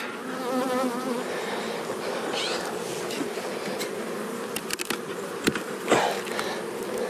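Honeybees buzzing steadily and densely inside a packed hive during a powdered sugar mite treatment, with occasional sharper clicks and handling knocks over the continuous drone.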